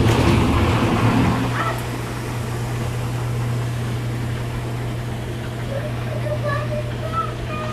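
A steady mechanical hum with churning water runs continuously after a brief louder start, like bathtub jets bubbling nearby.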